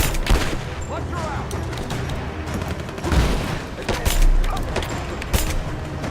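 Gunfire rattles in the Rise of the Tomb Raider video game, dense bursts of shots with scattered louder reports over a steady battle din, while voices speak over the combat.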